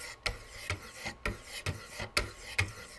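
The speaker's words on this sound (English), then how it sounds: "I'm going to switch over to the 600 grit stones now" A blade is sharpened on 600 grit sharpening stones: soft, smooth rasping strokes at an even, unhurried rhythm, each one a short scrape, heard close and quiet with no talk.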